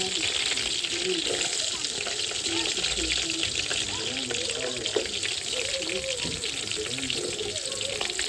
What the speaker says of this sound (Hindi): फिर हमारा घी जो है ना गर्म हो चुका है, अभी हम इसमें ऐड करते हैं जो प्याज।